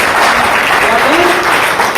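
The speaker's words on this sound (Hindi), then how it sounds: "जोरदार तालियां होनी चाहिए भाई" An audience applauds a doctor being welcomed at an Ayurveda business gathering. The clapping is loud and dense, with voices in the crowd mixed in.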